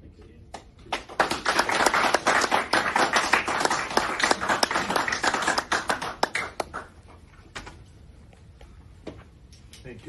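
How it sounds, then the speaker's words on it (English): Hands clapping at a 50-year gold medal presentation, a crisp patter of many claps building and holding for several seconds, then thinning out to scattered taps before fading. "you're clapping your hands remotely there"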